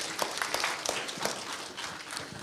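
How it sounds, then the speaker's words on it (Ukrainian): An audience at a doctors' lecture program applauds steadily, with dense, even clapping from a crowd filling the room for a couple of seconds. "Аплодисменти"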